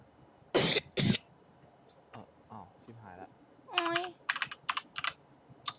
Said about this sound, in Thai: พี่ชิปเขาพิมพ์เร็วอ่ะ